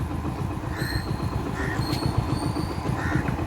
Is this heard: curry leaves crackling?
no